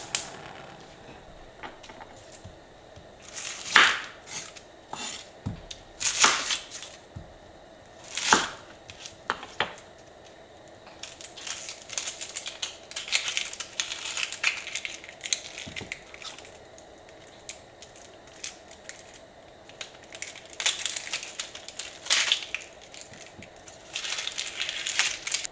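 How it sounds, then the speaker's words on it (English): A knife chops through an onion on a cutting board in irregular bursts of sharp, crisp cuts with quiet pauses between, close up. "I need to cut up an onion."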